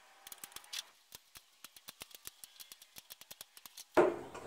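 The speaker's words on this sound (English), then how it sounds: "This mesh can just be cut with a pair of scissors." Scissors snipping through mesh for a DIY shark tooth sifter, a quick run of about twenty crisp, close clicks in a steady rhythm, ending in a louder clatter.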